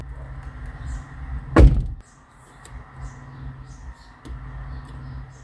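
A pickup truck door swings shut with a single solid thunk, loud and close, followed by quieter low background hum and a faint later click.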